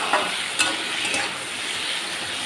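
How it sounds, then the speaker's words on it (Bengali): Boiled kharkol stalks being stirred into a sizzling pan, a steady close frying hiss with a few scraping spatula strokes, no voices. "নেড়ে চেড়ে মিশিয়ে নেব"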